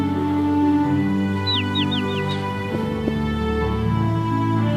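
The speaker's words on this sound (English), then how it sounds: "The little wild bird became Simon's friend" A small wild bird gives a quick run of four thin, downward chirps, fairly faint against a loud, steady, humming tonal background with no voices.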